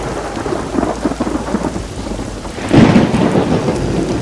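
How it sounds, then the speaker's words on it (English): Steady heavy rain pours down while a deep rumble of thunder swells midway and lingers under the downpour. "It started raining and pouring in the middle of the lake."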